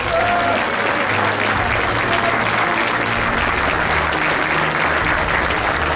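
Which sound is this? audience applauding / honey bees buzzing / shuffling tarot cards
audience applauding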